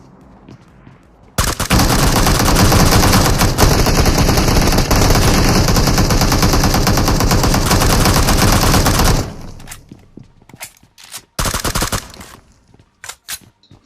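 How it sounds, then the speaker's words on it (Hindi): Gunfire in a mobile shooter video game, a loud, dense burst of rapid automatic shots lasting about eight seconds, followed by a few scattered shorter bursts and quieter sounds. "सिर्फ गोलियों की आवाज आई है चारों तरफ"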